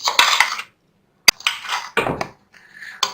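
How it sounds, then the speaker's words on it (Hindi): Cooked biryani rice stirred in a metal pot, close scraping and clanking of a spoon against the pot in several short bursts separated by brief pauses. "ये चावल हमारे हो चुके हैं, इन्हें मैं मिक्स करूंगी"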